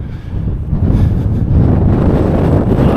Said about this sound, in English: That's that 30-degree gale force gust that's just hitting us right now.